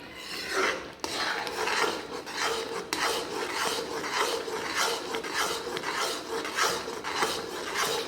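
A spoon or spatula scrapes rhythmically around a pan as almond halwa is stirred, a steady rasping sweep repeating about once a second, close and moderately loud with no talk.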